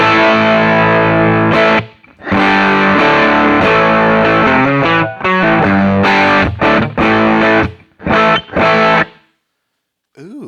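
A Lollygagger FX Canaglia pedal drives an electric guitar through an amp, strummed big open chords ringing loud and thick with added grit, several hits and stops before the last chord fades to silence.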